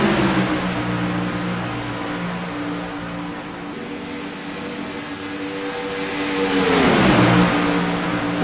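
Race cars in a Cup Series race at Daytona International Speedway sweep along the front stretch, loud layered engine whines that hold steady, then swell and drop in pitch as a car roars close past.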